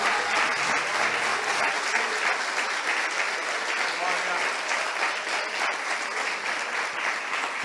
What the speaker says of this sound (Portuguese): Você pode aplaudir bem forte a palavra de Deus agora?